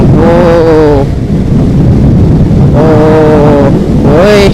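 A QJMOTOR AX200S motor scooter engine on a test ride, revving up in two rising bursts with a short lull between, close and loud under heavy wind rush.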